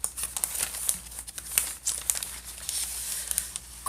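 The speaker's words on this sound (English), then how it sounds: "today you're going to get your plastic bag out" A plastic craft bag being pulled out and handled, giving a continuous close crinkling and rustling with sharp bursts throughout.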